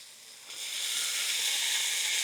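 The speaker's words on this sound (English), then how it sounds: "so splash of water to steam" Steady, loud sizzling hiss of water steaming in a hot pan with broccoli, swelling after a brief quieter start and holding strong to the end.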